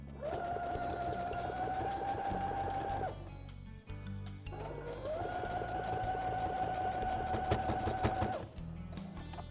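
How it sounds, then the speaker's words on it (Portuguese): A sewing machine stitches a ribbon onto a fabric car trash bag. Two long runs of close, steady whirring hum are separated by a short pause. "a fitinha que a gente vai costurar"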